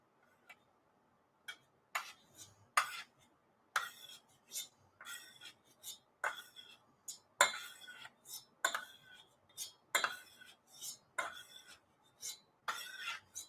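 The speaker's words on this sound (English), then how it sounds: "So just take the back of your spoon, mash it along the back of the pan." A spoon mashing mixed berries against the back of a pan, heard as a run of sharp, irregular metallic taps and clinks repeating close up for over ten seconds.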